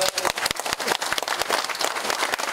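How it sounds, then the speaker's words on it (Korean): Audience at an academic conference breaking into applause, a steady run of close, crisp handclaps with no voices over them. "우리 박수 한 번 해주세요"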